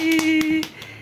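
Children clap together during an alphabet lesson, about five quick, sharp claps spaced across a second over a steady low hum.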